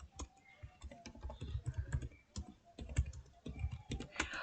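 Quick, irregular clicking of keys on a computer keyboard as a search query is typed, close and fairly steady, with no voices.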